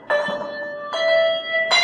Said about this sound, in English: A bell choir played the state song.